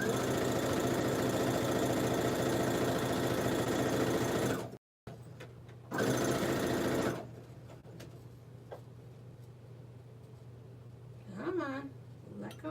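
A sewing machine stitches quilt block pieces for a churn dash block, a steady rapid whir that stops abruptly, restarts briefly, then falls quiet while a person speaks over a low background hum.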